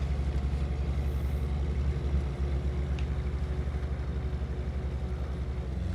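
A 2000 Ford F150 truck engine idles steadily in the video game SnowRunner, a deep, pulsing low rumble that stays fairly even and close throughout, with no one talking.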